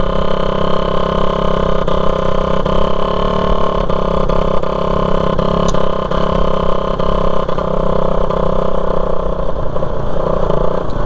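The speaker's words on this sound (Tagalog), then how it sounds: "Bumuburot-burot na yung ating makina kasi hindi na nakakonekta yung tambutso natin." A Honda Raider 150 motorcycle runs with its muffler disconnected and full of holes, its engine sputtering loudly and steadily up close without a break.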